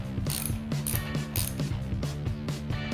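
A 15 mm wrench ratchets on a motorcycle fork locknut, giving rapid rhythmic metallic clicking, close and continuous for the whole moment with no talk.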